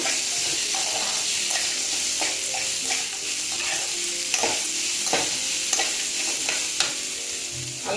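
Ginger garlic paste fries in oil with peanuts and cashews, a constant busy sizzle under repeated scraping and tapping of a spatula against the pan, close and steady with no speech.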